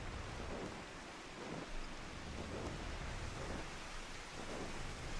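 Heavy rain pouring in Final Fantasy XIV, a dense, constant hiss with faint low rumbles swelling now and then, steady and loud throughout with no voices.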